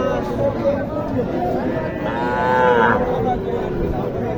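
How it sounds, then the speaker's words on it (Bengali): A cow moos loudly in a long, drawn-out call at a busy cattle market in Naogaon, Bangladesh, with crowd chatter and nearby voices running underneath. "এখানে একটা গরু আছে এটা মনে হয় উনি সাইওয়াল বলবে"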